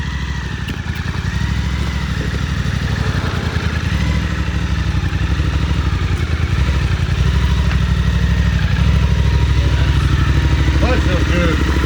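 Suzuki V-Strom 800DE motorcycle ridden slowly around a parking lot, a loud, steady, close engine thrum with low pulsing, continuing without a break.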